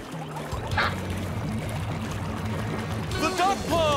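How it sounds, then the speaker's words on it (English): Cartoon duck pond water drains down a pipe spout with a steady pouring, gurgling flow under a burbling pulsing tone, and a voice speaks briefly near the end. "The water must have gone down that pipe spout."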